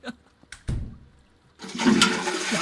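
A toilet flushes in the Internet Cafe Simulator 2 video game, preceded by a few sharp clicks and a thud. A loud, rushing whoosh of water then starts and continues to the end.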